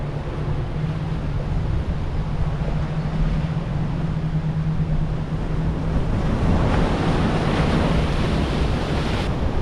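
Ocean swells breaking across a harbour channel in gale-force wind off the Cape of Storms, seen from a Balance 526 catamaran, a steady roar of surf and wind with a low engine hum underneath, no talk.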